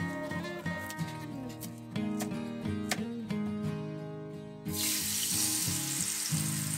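Blended chili spice paste hits a hot pan in a small home kitchen, breaking into a loud, bright sizzle after clinks and scraping of utensils.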